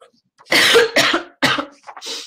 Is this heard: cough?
yes